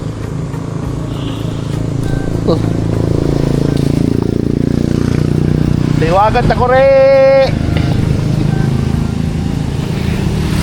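Motorcycles on a Philippine loop ride through Cabangan, Zambales, idling and rumbling steadily in the background while people talk over them, with a brief harmonic whine near the middle.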